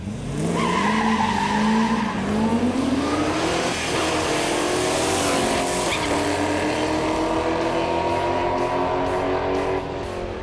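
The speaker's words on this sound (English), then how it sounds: "Even with the track prep spray on the surface that we're running, it's still having traction issues." A modified Chevrolet Camaro built in COPO style spins its tires on a prepped drag strip, with a loud, continuous engine roar and rising revs over a screeching wheelspin that carries through the whole stretch.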